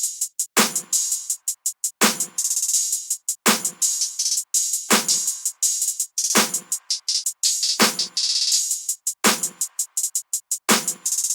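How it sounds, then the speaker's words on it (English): Open hi-hat pattern from a trap beat, layered with deep 808 bass hits: bright sizzling hat strokes repeat in a rapid steady rhythm while a booming 808 lands every couple of seconds, loud and up front with no talking. "this simple openhat pattern with the Rex openhat"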